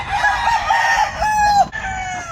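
Fighting cocks (gamefowl) crowing close by, a sequence of loud rhythmic crows rising and falling, followed by a sharp break and a fainter trailing call.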